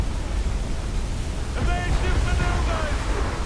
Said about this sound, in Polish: uciekam przed falą